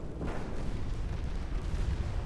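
Heavy naval gunfire and a torpedo launch from the warship game Ultimate Admiral Dreadnoughts: a continuous low, rumbling barrage of booms and blasts, steady and loud throughout with no talking.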